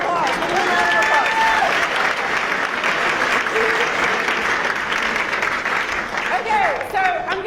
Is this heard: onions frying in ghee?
no